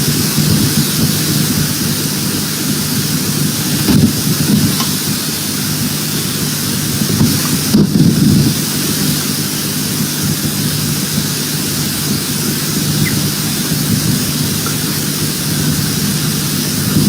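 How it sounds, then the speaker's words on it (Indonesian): Heavy rain pours down hard and steadily in a dense, roaring wash, with low rumbles underneath and no voices. "Hujan kencang kali"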